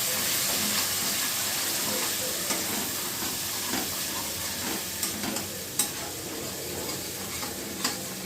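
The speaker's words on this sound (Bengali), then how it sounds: "টক টক দইটা দিয়ে এবার গ্যাসটা একটু কমিয়ে দিয়ে মশলার সঙ্গে আমি এটাকে খুব ভালো করে মিশিয়ে দেবো।" Sour yogurt stirred into spices in a pan over lowered gas heat, a steady sizzling hiss with soft scraping strokes and occasional clinks throughout, close and continuous with no voices.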